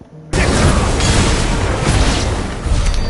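An enemy explodes in Final Fantasy 16 with a sudden, loud, sustained roaring blast that fills the space and rumbles on for several seconds.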